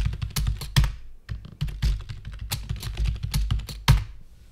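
A password being typed on a computer keyboard during a Gentoo Linux install, with quick irregular bursts of close, crisp key clicks broken by a couple of short pauses, no talk.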